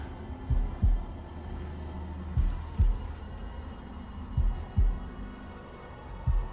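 Game heartbeat effect in the horror video game House of Ashes: four evenly spaced double thumps, low and heavy, pulsing over a steady hum with no talk.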